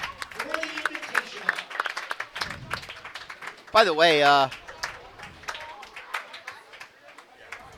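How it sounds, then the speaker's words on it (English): A bowling championship audience applauds, a dense patter of clapping running throughout under a voice, with a brief loud whoop or cheer cutting through midway. "Please give them a round of applause as they begin their title match"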